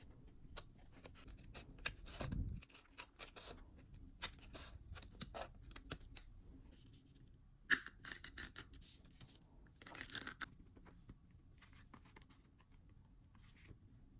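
Scissors snipping through textured paper to cut out a hand-drawn egg shape for a craft journal page, a run of small close crisp cuts and rustling paper with a few louder snips, no talking.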